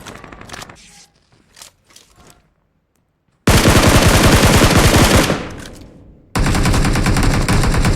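Battle royale video game gunfire: a few scattered shots, a short silence, then two long, very loud bursts of rapid automatic fire, the first trailing off before the second cuts in.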